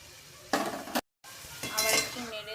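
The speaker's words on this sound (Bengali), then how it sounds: "এবার চিকেনটা দিয়ে দেবো, চিকেনটা ভালো করে নেড়ে দিচ্ছি, নালে তলায় লেগে যাবে।" A utensil scrapes and clinks against a frying pan as chicken is stirred in a small amount of hot oil, with sizzling bursts and a short break between stirs.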